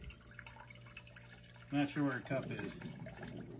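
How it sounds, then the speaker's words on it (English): Water poured into a measuring cup at home, a soft trickle and drips near the mic while someone talks over it. "I can't hold it and pour water at the same time."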